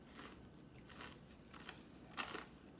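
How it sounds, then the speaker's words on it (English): Crunchy bites into a fried rice paper roll coated in batter, several crisp, close crackling crunches spaced about half a second apart over a quiet background. "Crunchy sound, because of the rice paper plus the batter."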